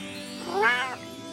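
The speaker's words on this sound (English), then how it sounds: "my sweet orange cat" An orange cat gives a single clear, rising-then-falling meow lasting about half a second, close by, over a steady low electrical hum.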